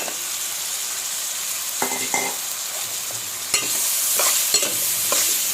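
Minced meat keema dropped into hot oil with ginger garlic paste, a bright steady sizzle punctuated by several clanking spatula stirs against the pan, growing louder midway, no talk.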